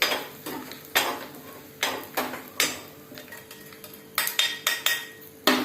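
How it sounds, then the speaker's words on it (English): Spoonful of asafoetida frying in a pan for sambar, a faint sizzle broken by repeated sharp clinks and scrapes of a metal spoon against the pan, no talking. "asafoetida, 1 spoonful, let it fry."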